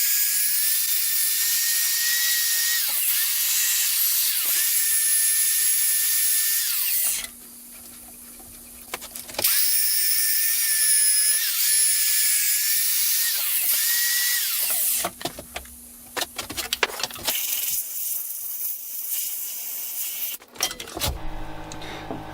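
A black oak pedestal bowl is sanded on a wood lathe, giving a loud high whirring hiss that runs continuously, dips out briefly twice, then returns with rougher scratchy bursts near the end.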